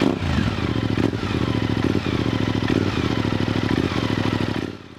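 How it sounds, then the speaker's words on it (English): A used motorcycle engine runs at a steady idle after starting, with a close, continuous mechanical putter and light clatter that holds even for about five seconds before dropping off at the end. "Start the bike and listen for any abnormal noises."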